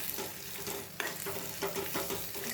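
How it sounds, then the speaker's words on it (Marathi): Red chili, coriander powder and garam masala being sautéed in a pan for an amti, giving a continuous close sizzle with scraping stir strokes, dense and steady throughout, with no speech. "लाल तिखट आणि धना पावडर आणि थोडासा गरम मसाला मी टाकलेला आहे ते चांगलं परतवून घ्यायचं आहे आपल्याला"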